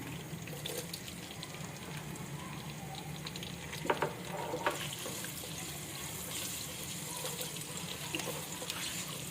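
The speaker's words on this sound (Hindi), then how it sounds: "अब मैं इसमें प्याज डाल रही हूँ।" Onions are added to a frying pan of hot oil for an egg and potato curry, giving a soft, steady sizzle with a few brief clatters partway through.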